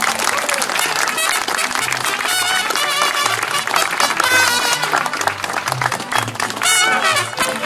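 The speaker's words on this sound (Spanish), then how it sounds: "¡Aplausos, Jorge!" Applause for a man named Jorge, steady dense clapping filling the whole stretch at close range, with music or voices mixed in beneath it.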